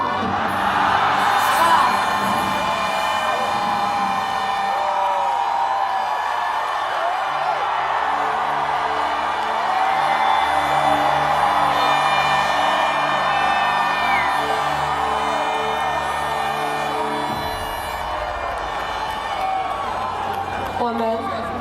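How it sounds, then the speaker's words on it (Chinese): A large crowd at a celebration cheers loudly for Taiwan, a sustained roar of whoops and shouts lasting over twenty seconds, with horn-like tones and music woven through the din. "那我们就大声的为台湾欢呼一次"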